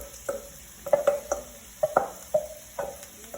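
Shrimp and vegetables stirred together in a hot frying pan, a series of distinct scraping and clattering strokes from a utensil against the pan over a soft sizzle, close and fairly loud.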